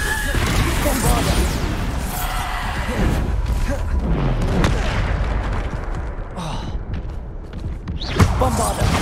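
Bombarda explosion spell cast repeatedly in the Hogwarts Legacy video game, loud booming blasts and crashes layered in dense, busy combat audio with a sharp hit near the end.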